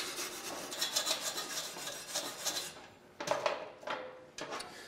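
Slag and debris are scrubbed off a welded four-tier horseshoe wine rack with a rasping, scraping rhythm of repeated strokes, close up, ending in a few sharper scrapes.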